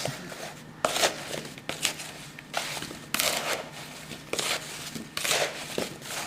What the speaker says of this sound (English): toss it with the apples with the lemon juice. I just already coated it with the wooden spoon